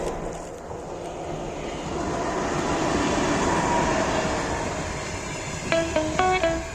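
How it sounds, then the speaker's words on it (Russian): A passenger train hauled by a Czechoslovak-built ChS4T electric locomotive (1973–1986) rumbles steadily past with a broad, sustained roar, ending in a few sharp tonal horn blasts from the locomotive. "А вот и электровоз ЧС-4Т с пассажирским поездом."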